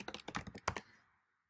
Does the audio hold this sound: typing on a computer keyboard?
yes